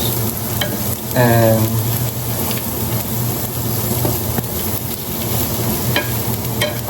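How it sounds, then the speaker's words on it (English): Browned onions are stirred in hot oil in a pan, a continuous loud close sizzle with scraping strokes of the spoon, and a brief spoken word early on. "So start to mix it, to mix the oil, the onions,"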